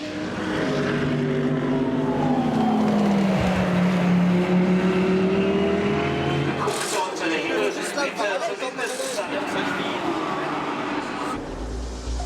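Audi R8 race cars roar past at night during the Nürburgring 24 Hours, engines rising and falling as they pass, with a French commentator talking over the racing noise.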